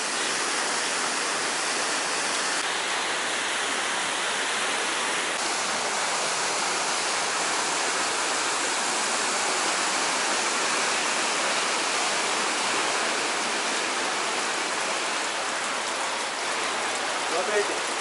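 A waterfall at the Akhki-T1ai tourist complex pours down nearby as a dense, steady rushing hiss. It stays loud and unbroken throughout with no clear speech.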